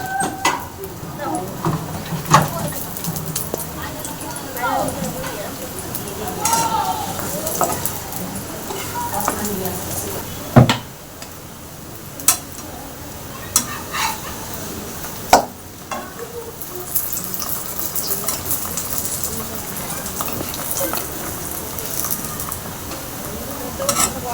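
Laccha paratha frying in a small amount of oil, a steady low sizzle running throughout with sharp clicks and knocks from a spatula or pan at intervals.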